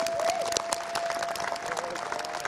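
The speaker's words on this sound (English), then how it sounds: "Can we give Elaine a round of applause, please?" A conference audience gives a fairly faint round of applause. The patter of clapping is steady and sits under a sustained tonal hum, with a few scattered voices.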